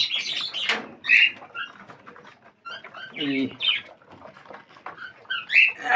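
Pigeons in a loft at morning feeding time give scattered chirps and squawks with soft pattering and shuffling between them, one louder call rising midway through and a brief hush just before it, all close and uneven.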